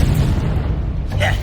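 A Confringo fire spell blast from Hogwarts Legacy, a dense, continuous booming rumble with low-end weight filling the short burst, with voices of game characters speaking over it.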